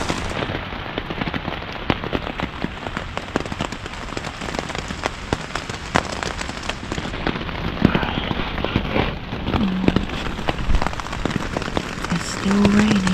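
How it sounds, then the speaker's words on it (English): Steady rain patters densely on a taut tent surface close by at a Cumberland Island campsite, a continuous crackling drumming with scattered louder drops throughout. "It's still raining."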